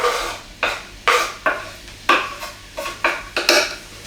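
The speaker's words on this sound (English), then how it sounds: "We stir that for a bit." Ingredients of onions, peppers and garlic stirred in a hot pan, with nine or ten distinct scraping strokes of a utensil against the pan at a steady rhythm, close and clear, with no talking.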